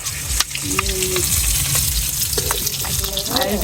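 Native chanda fish fry in a pan with a steady, close crackling sizzle and occasional soft scrapes of stirring throughout.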